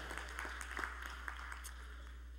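Scattered applause from a church congregation, faint and distant with a few soft claps, over a steady low mains hum.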